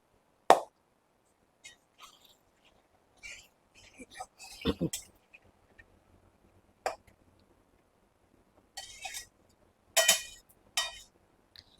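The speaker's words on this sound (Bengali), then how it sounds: "আলুটা ছেড়ে দিলাম, আলুটা একটু লাল করে ভাজবো" Cut potato pieces dropped into hot oil for mutton curry give sparse plops and clinks, scattered irregularly with near silence between, while a voice talks intermittently.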